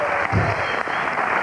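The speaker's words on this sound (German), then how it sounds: "ein Applaus für Reinhard an der Gitarre" A studio audience at a 1994 German TV show applauding a guitarist steadily throughout, dense clapping at moderate volume.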